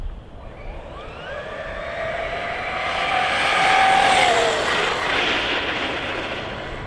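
An HBX T6 RC desert buggy on stock setup and 4S power, fitted with Creighton tires, races over dirt with a high, rising electric motor whine that swells as it passes close, then fades, no voices.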